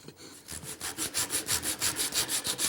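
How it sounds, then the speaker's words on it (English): Steady, rhythmic scraping strokes of a sharp chisel rounding over a wood corner, about a dozen even passes in quick succession, close up with no talking. "Now I want to round over this corner. And that's easily done with a good sharp chisel."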